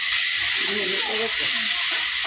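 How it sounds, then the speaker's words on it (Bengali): Steady broadband rain hiss fills the air throughout, while fish with onion and green chillies fries in the background under a brief low voice. "বৃষ্টি নামতেছে"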